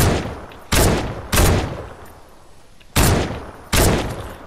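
Gunfire in Fortnite: four loud, sharp shots spaced unevenly over a few seconds, each with a short decaying tail, and no talking.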